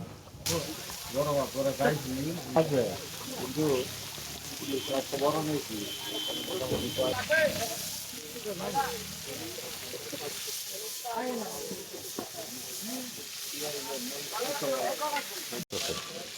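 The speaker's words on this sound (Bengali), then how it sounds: "আমি সামনে দাঁড়িয়ে খুব সুন্দর করে ভাজিয়ে নিচ্ছি, যাতে কোনো কাঁচা না থাকে" Eggplant slices fry in a pan with a steady sizzling hiss, heard beneath almost continuous nearby talking.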